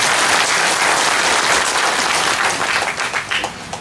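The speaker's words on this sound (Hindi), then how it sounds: "थोड़ा अनिमेश के लिए भी ताली मार दो" An audience at a political gathering claps for Animesh Debbarma, an NCT chairman and former MLA, in a dense burst of applause that thins toward the end.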